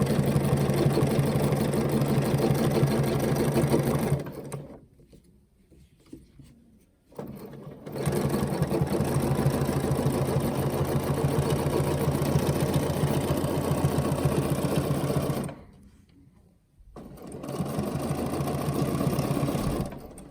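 A sewing machine stitches a quilt block with ruler work, running in long steady whirring stretches with two short pauses, close and fairly loud.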